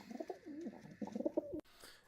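A pigeon coos in a run of soft, rolling, throaty calls, fairly close and clear, cut off by a brief knock near the end.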